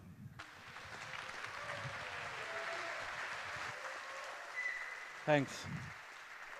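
A conference audience at the SHA2017 event claps to welcome a speaker, a soft, continuous spread of applause at a distance, with a short spoken remark near the end.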